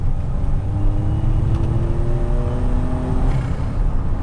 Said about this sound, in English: You can really hear the turbo spool up.